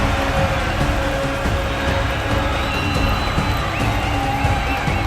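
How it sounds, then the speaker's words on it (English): A wrestling crowd at a UAW Armageddon event cheers loudly and steadily, a dense roar of voices with whoops rising through it. "Listen to this crowd, Roadhog. They are absolutely going bananas for that man"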